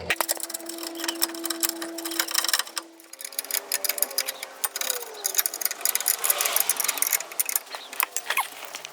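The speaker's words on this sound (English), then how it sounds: "Bolting on this bottom bracket to the frame" Ratchet work bolting a bottom bracket to the frame of a 2008 Honda Element during alternator replacement, heard as rapid clicking pawl bursts with metallic rattles and a steady hum in the first seconds, close and busy throughout.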